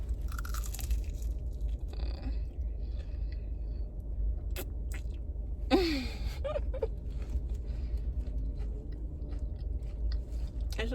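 Crunchy Raising Cane's food is chewed close to the microphone, with scattered bites and crunches over a low steady hum, plus a short breathy sound partway through.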